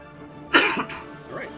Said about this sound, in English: Again, apologies for coughs.